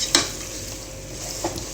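Chicken karahi with cream being stirred and roasted in a pan: a soft, steady sizzle with two sharp scrapes of a spoon against the metal, close and fairly loud, no voices.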